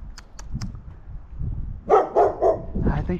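Dogs barking nearby during a walk: a few quick high yips, then a burst of three or four louder, deeper barks in close succession.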